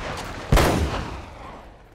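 A single loud gunshot rings out in Uncharted: Drake's Fortune, a sharp crack with a long echoing tail that fades over the next second and a half, with no voices.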